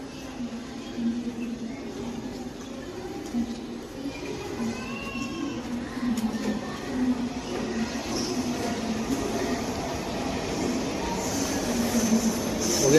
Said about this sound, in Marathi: बघूया ट्रेन आली आहे